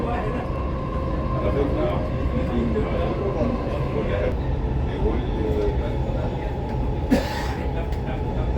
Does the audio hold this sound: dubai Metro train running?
yes